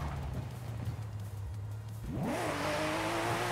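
A car engine in the Forza Horizon 5 racing game idles low, then surges into a loud rising rev in first gear, the pitch climbing and holding high as the engine strains.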